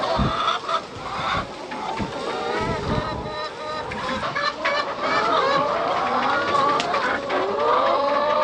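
Hens clucking steadily in a farm pen, several birds close by with overlapping bursts of cackles; someone speaks briefly among them.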